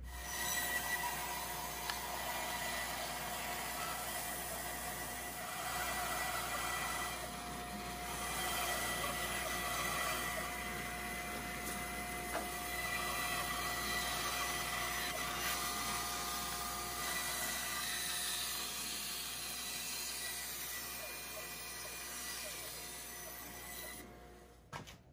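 Bandsaw cutting through wood in a workshop, a steady, fairly loud whirring drone with a continuous rasp of the blade that holds for about twenty-five seconds before winding down at the end.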